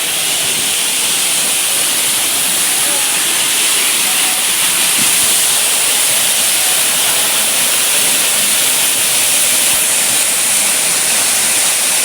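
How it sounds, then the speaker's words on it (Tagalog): Water crashing down at a close-up falls, a loud, constant broadband roar that fills the whole stretch without letting up. "Ito yung tinatawag na Cancel Falls"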